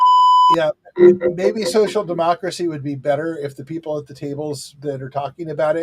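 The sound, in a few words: mobile phone notification beep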